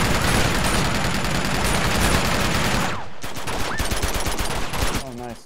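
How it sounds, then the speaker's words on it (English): Rapid AK assault rifle fire in the action video game Uncharted 2, a dense continuous burst of close shots dropping briefly before more scattered gunfire resumes, with game noise underneath. "The recoil on this AK is accurate."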